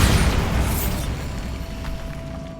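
A Bombarda spell blasts in Hogwarts Legacy, a loud, close explosion with a heavy low boom that bursts at once and then rolls off into a fading rumble.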